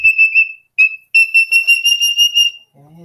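Moluccan cockatoo calling loudly at close range, a series of shrill, sustained whistle-like notes in repeated bursts, followed briefly by a person's voice.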